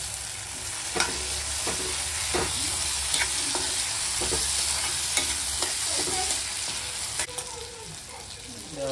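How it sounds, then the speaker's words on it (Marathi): Potatoes stirred in a sizzling pan for a fish recipe, a spoon scraping in repeated strokes about once a second over a steady frying hiss, close and clear with no talking. "बटाटे चांगले मिक्स करून घ्यायचे"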